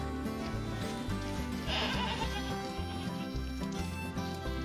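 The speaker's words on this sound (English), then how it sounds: "That sound of sorrow is the sound of a boy goat mad he's not getting snacks." A male goat bleats loudly and plaintively over a steady low hum of background noise, the call rising briefly near the middle of the short stretch.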